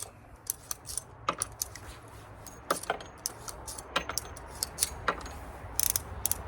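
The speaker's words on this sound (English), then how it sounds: "We'll half cock it, open our loading gate, and then eject 5 rounds." Cartridges ejected one by one from a Pietta Great Western II .357 revolver through its open loading gate, producing a series of light metallic clicks and clinks spread irregularly across a quiet background.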